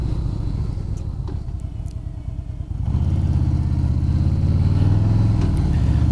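Harley-Davidson Softail Slim S motorcycle being ridden, its engine running low and steady, then swelling into a louder, deeper rumble partway through, with no voices over it.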